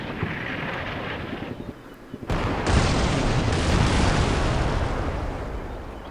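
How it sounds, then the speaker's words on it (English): Gunfire and explosions in the wargame Combat Mission Black Sea, a dense rumbling barrage that rises abruptly to a loud, sustained roar after a brief lull, with scattered sharp reports. "Oh, somebody's firing."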